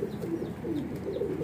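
Pigeons of Weshi, Kansani and Sialkoti breeds cooing in repeated soft low pulses, steady and close, with no voices over them.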